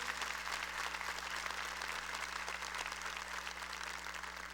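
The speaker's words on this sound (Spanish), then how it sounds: "para que les demos un aplauso de bienvenida también a ellos" A church audience gives a sustained round of welcoming applause, steady and dense, heard from a distance within a large hall.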